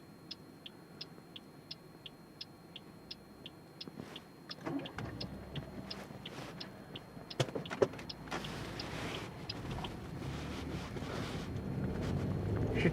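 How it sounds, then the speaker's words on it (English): A car passing on a street outdoors in Denmark, a low rushing swell that builds gradually under wind buffeting on the microphone, preceded by a run of regular faint ticks. "You should be able to hear the car and everything."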